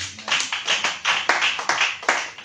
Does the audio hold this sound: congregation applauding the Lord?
yes